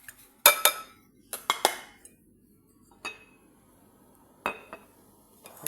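A metal spoon clinks against a pot while stirring vanilla into a rice and milk mixture, with a few sharp, bright taps in small clusters and quiet gaps between them.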